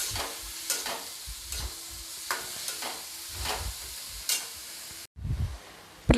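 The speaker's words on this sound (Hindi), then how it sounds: "अब मैं इसे गोल्डन ब्राउन होने तक भून कर रेडी कर लूँगी।" Onions frying in a pan for lauki kofta curry while being stirred, a steady sizzle broken by repeated rhythmic spoon scrapes, close and fairly even, with no voices.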